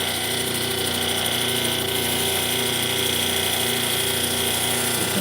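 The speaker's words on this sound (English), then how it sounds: "now we're into the first stage of polishing." A power tool runs loud and continuous during the first polishing stage of a witch sculpture, a dense steady whine that holds level from start to end with no pauses.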